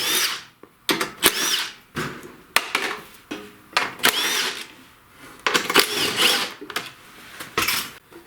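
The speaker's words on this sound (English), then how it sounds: "now I'm going to get all these bolts here with the 10mm heads off" A ratcheting 10mm wrench backs out the bolts on a snowblower cover: close, repeated bursts of quick ratchet clicking separated by short pauses, with no talking.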